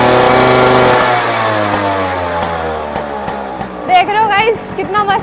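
Yamaha RX 100 two-stroke motorcycle engine revved hard at full throttle, a loud, close, harmonic-rich wail that drops off after a second into a falling idle, with someone speaking over the end.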